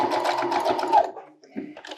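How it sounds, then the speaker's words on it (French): A sewing machine runs steadily, stitching 3 mm from the edge along the hem of a tailored jacket, then stops, followed by a few softer mechanical taps and handling sounds. "je vais coudre à 3 mm du bord ici"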